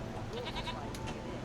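A goat bleats in the Grimm Tales pinball video game, a short wavering cry over steady machine and game noise.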